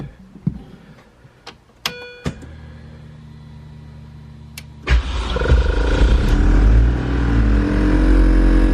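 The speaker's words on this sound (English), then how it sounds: "Car starts right up." A car with no clutch pressure cranks and fires up after some clicks and chimes, then settles into a loud, steady idle close by.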